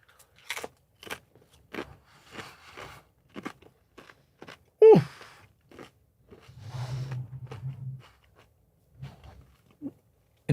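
Chewing and swallowing spicy food up close, with a series of short crunchy bites and mouth clicks spread through the clip, a louder crunch midway and a stretch of low murmuring or swallowing noise.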